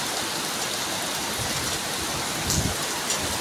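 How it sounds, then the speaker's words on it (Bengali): Heavy rain pours steadily during a thunderstorm with lightning in Bengaluru, a dense, even hiss of drops on surfaces, loud and continuous, with a brief heavier splash near the end. "এই বৃষ্টির মধ্যে তো হাঁটতে যাওয়ার কোনো প্রশ্নই নেই।"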